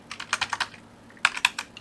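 Quick bursts of typing on a computer keyboard, two short clusters of crisp close key clicks separated by a brief pause, quiet and alone.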